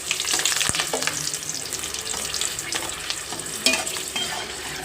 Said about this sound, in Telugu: ఇవన్నీ వేసి వేయించుకోవాలి.